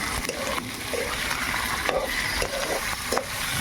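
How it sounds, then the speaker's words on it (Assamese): Spicy desi pork and onions frying in a kerahi, village style, with a continuous close sizzle broken by repeated scraping stirs of a spoon against the pan. "মাংসখিনি দি দিলোঁ। এতিয়া ধুনীয়াকৈ লৰাম।"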